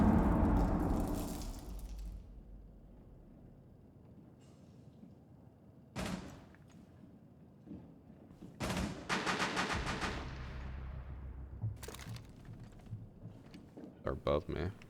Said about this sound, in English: Oh, I hear shots.